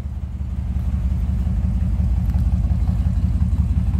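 A 1955 Ford Sunliner convertible's 272 V8 idles steadily, a low, even rumble heard up close from the rear of the car, constant throughout with no talking.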